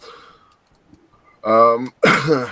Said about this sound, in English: I can't quit coughing every time I talk